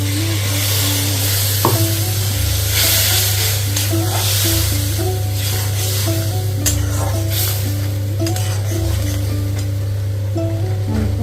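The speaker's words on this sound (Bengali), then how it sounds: "মশলাটা ভালো ভাজা হয়ে গেছে, এবার মশলা ধোয়া জলটা অ্যাড করে দেবো।" Fried spice paste for a mustard bata fish jhal sizzles and crackles steadily in the pan as spice-rinse water is poured in, with a spoon stirring and steady background music throughout.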